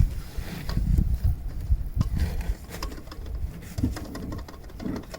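A worn tensioner pulley on a BMW E36 engine whirs and chatters with a rough, rhythmic mechanical rumble, heard up close with no talking.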